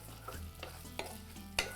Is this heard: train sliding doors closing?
no